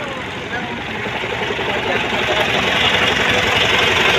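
A steady engine idles with a low, even rumble that grows slightly louder over a few seconds, heard up close without any voices.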